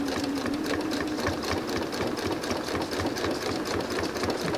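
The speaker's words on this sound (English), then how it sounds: "Very carefully, slowly, sewing right across." A sewing machine runs steadily at a slow, careful pace, stitching a scant quarter-inch seam straight across a quilt block, its dense mechanical whir continuous and close throughout.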